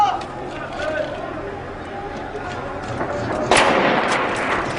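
Gunfire in a square, with scattered sharp cracks and one louder burst near the end amid agitated shouting voices and crowd noise.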